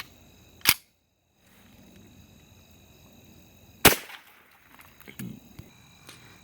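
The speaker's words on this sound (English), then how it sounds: "this is our first hollow point from the rifle, the Remington Eli subsonic hollow point" Two sharp, loud reports from a rifle firing Remington subsonic .22 hollow point rounds, spaced about three seconds apart, with quiet handling noise and faint thuds between them.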